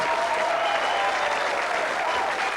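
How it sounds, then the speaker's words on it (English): Studio audience applause on a 1986 game show, a steady dense wash of clapping that fills the whole moment at full strength with no gaps. "Let's give her a big round of applause."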